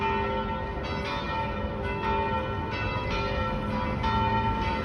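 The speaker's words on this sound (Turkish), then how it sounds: "Bu çan seslerini takip edip o kiliseyi de göstereceğim şimdi size." Church bells in Rome ringing continuously, rich layered tones with repeated strikes, steady and fairly loud, no voices.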